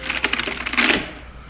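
Keys clatter on an RGB mechanical gaming keyboard as a quick run of close, crisp clicks that gives way to a short softer rush before fading, with no voices.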